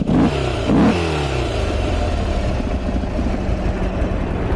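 A used 2012 Harley-Davidson Sportster XR1200X with heat-wrapped factory exhaust revs loud and close, its air intake sucking hard as the throttle is blipped, then settles into a steady rumbling idle.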